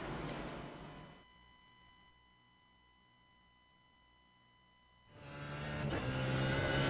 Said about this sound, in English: let's take a ride around in the GSRC BMW